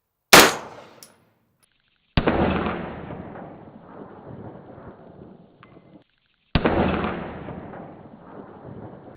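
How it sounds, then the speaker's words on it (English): A 9mm PSA AR rifle fires three loud, sharp shots outdoors, each followed by a long ringing echo that decays over a second or more. "we have a 9mm PSA AR. Let's see how it does."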